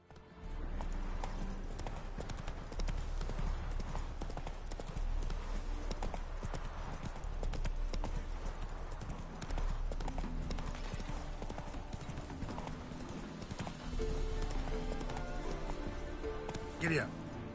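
Horse hooves clip-clop steadily in The Witcher 3, a continuous rhythmic trot under game music and talk, with an occasional whinny.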